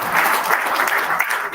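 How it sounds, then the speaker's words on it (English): Audience applause follows a call for a round of applause for a man working at Auschwitz, with steady dense clapping held at an even level through the short stretch and faint voices underneath. "He deserves a round of applause"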